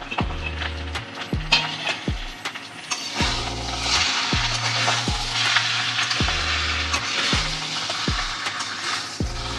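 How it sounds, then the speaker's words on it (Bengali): Catfish and eggplant curry, a Bengali boal mach dish with coriander and green chillies, fries dry in a pan, a loud close sizzle broken by regular scraping stirs of a spatula; nobody talks. "যেহেতু এটা বেগুনের ভাজা কারি, তার জন্য আমি এটাকে একটু ভাজা ভাজাই করবো"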